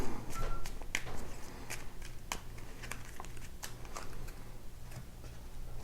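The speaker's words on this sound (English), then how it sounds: "you're just going to shuffle them" Player cards for the Pandemic board game being shuffled by hand, a close, steady run of soft papery riffles and light ticking snaps continuing throughout.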